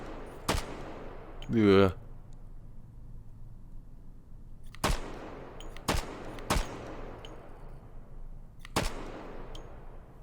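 Sharp gunshots fired at a target 100 meters out, five loud isolated cracks spaced a few seconds apart with short echoing tails, plus a brief rising whine and a short spoken word.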